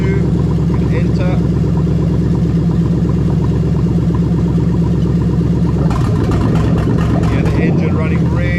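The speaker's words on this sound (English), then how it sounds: "Engine running really lumpy over there." A Lexus engine on bank 2 runs lumpy and uneven during an active diagnostic test, a loud, close idle with a rough throbbing pulse and a shift in tone near the end.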